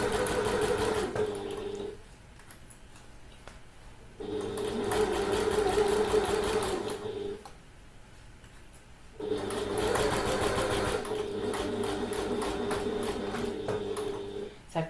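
Sewing machine stitching a handbag, loud steady whirring runs of stitching in three bursts of a few seconds each, separated by quiet pauses.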